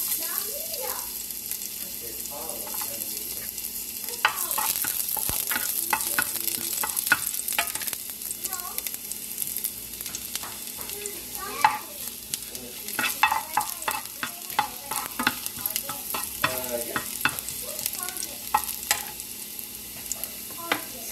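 Mung beans cook in a pan. A steady close sizzle runs throughout, with frequent scraping and clinking strokes of a utensil stirring, and faint speech in the background.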